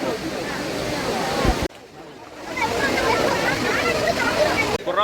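A waterfall roars with steady rushing, splashing water close by, broken by a brief sudden drop near the middle before the full rush returns; no clear talking.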